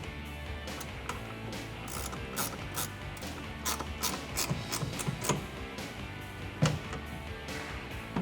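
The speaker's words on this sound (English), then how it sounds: "I'm just going to tighten it up a little bit using a 9/16 wrench" A 9/16 wrench ratchets as it tightens a clamp on a BAK Industries BAKFlip MX4 folding tonneau cover on a 2015-2018 Ford F150, quiet repeated clicking strokes at close range with no talking.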